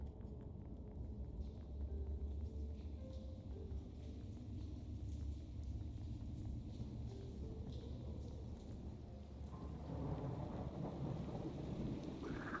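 Steady rain with deep rolling thunder in a Minecraft-style game while an iron farm is rebuilt: a constant wash of rainfall under a low rumble, with a few faint tonal game blips and no talk.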